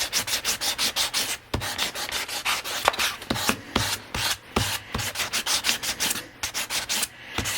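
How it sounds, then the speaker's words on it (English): Sandpaper rubbed by hand over an old wooden chair during restoration, producing close, rhythmic scratchy strokes in a steady back-and-forth pattern with brief pauses between passes. "Now initially I'm just going to go over and clean everything up with the sandpaper."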